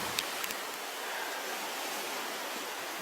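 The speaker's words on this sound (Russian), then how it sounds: "Вот вода." Water of a small lake by the shore of Lake Ladoga in early spring, heard as a steady, broad hiss of flowing or lapping water, close and even throughout, with a few faint clicks near the start.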